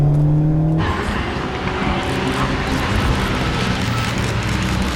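An Alpine sports car accelerates hard on a race track, its engine note rising loud and close after a brief lower tone, with strong continuous roar and tire noise.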